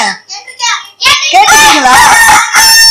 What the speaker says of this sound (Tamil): நீங்க கேட்டிருக்கீங்களா சேவல் கூவுற சவுண்ட?